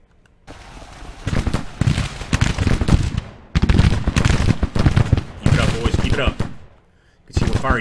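Musket volleys from Civil War troops in a strategy game battle, dense bursts of crackling shots in several waves separated by short lulls, loud and close, with a voice talking over parts of it.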